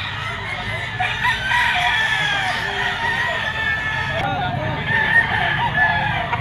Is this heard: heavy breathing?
no